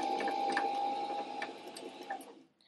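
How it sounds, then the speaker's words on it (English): A home sewing machine winds thread onto its bobbin as the pedal is pressed slowly, giving a steady close mechanical whir with a faint rhythmic ticking that runs for a couple of seconds, then stops. "Now we can go ahead and turn our sewing machine on, and we're gonna press our pedal slowly while holding the thread."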